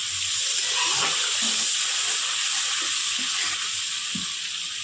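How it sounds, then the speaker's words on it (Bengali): Water added to hot oil in a cooking pan while making katla fish bhapa, giving a steady, close sizzling hiss that holds evenly throughout. "একটু জল দিয়ে দেবো।"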